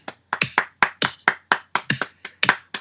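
Scattered hand claps from a small group, about a dozen sharp claps in an irregular rhythm, close and alone without talk, cheering a wrestler named Roman Reigns after a triple threat match win.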